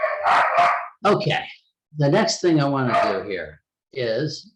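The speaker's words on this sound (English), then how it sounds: "excuse the barking dog in the background" A dog barks in short bursts, sharp and fairly close, while a person speaks over it with pauses between phrases.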